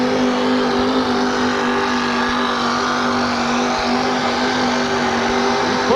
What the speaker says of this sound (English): Got the sled moving and breaks traction.